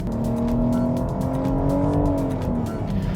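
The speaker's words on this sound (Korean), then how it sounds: "얼마든지 기름을 써도 얼마든지 전기를 써도 든든한 엔진이 있으니까 밟으면 됩니다" A BMW X5 50e plug-in hybrid SUV accelerates hard, its engine note rising steadily in pitch, loud and close from inside the cabin with road roar beneath.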